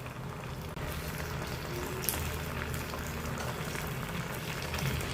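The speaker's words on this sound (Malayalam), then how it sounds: "ഇതിവിടെ തിളച്ച് കുറി വന്നിട്ടുണ്ട്." Paneer chili masala gravy simmers in a pan, a steady, low, bubbling hiss with faint pops, close and unbroken, with no talking.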